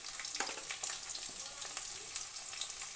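Potatoes fry in hot oil with salt, making a soft, steady crackling sizzle dotted with small pops and light stirring sounds, close and continuous with no voices.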